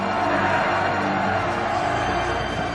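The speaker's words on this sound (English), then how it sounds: "a cheer erupted from the legionaries as they gave everything to one final push" A cheer from Roman legionaries making a final push in battle against the Celts, a steady wall of massed shouting voices holding at a loud level throughout.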